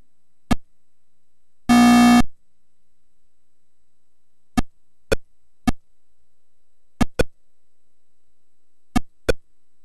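Atari Pong arcade game sound effects from a simple tone generator: isolated sharp electronic blips spaced irregularly, plus one longer buzzing beep early on, each clean and alone against silence.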